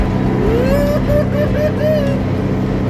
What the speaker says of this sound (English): I've never gone over a bridge with a tractor.